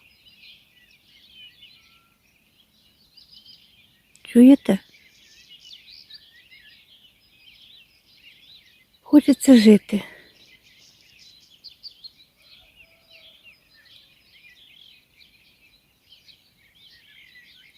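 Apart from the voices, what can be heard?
birds singing in spring forest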